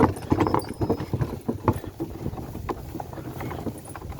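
A harnessed draft horse stallion pulling a load homeward in Ternopil region, Ukraine, its hooves clip-clopping in a loose rhythm outdoors amid wind and rolling cart noise.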